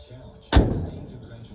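A custom-painted classic car door is shut lightly, giving a single solid, close thud that rings briefly and fades, with faint voices nearby.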